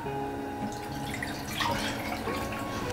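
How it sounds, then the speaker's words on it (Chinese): Clean water splashes and trickles into a cooking pot in a home kitchen, a soft, steady pour with faint dripping and no voices. "我们在锅里放点清水"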